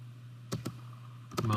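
A few sharp keyboard key presses, a pair of quick clicks followed by a short cluster of taps, as CAD commands are typed; close and fairly quiet over a low steady hum.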